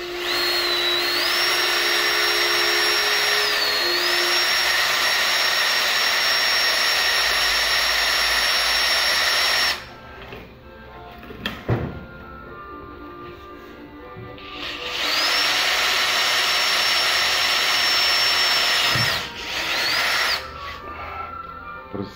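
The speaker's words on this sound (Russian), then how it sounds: "Просверлить отверстие." A power drill drills a hole, its high whining motor running steadily for about ten seconds, pausing amid handling clatter, then spinning up again for a second long run before stopping.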